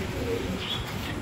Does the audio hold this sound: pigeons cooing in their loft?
yes